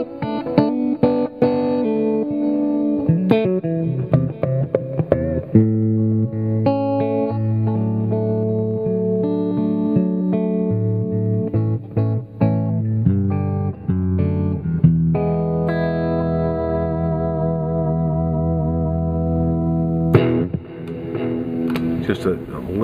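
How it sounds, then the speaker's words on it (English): Electric guitar with a light distorted crunch plays chords and single notes continuously, ringing with slight reverb. "Just a little bit of distortion in there. Just that little bit of crunch."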